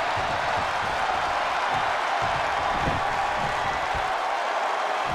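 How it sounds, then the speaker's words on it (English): A video game wrestling arena crowd in WWE 2K22 roars with a steady, dense wash of cheering and applause that holds at an even level throughout, with no voices standing out. "The WWE Universe is showing their appreciation for the action they're seeing."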